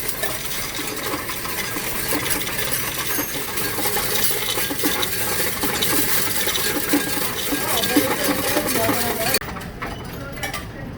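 Coins poured and dropped in a dense, continuous metallic jingle and clatter, as loose change is tipped out in a storage unit, with a voice speaking over it before the rattling thins near the end.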